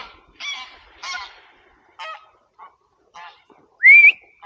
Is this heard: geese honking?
yes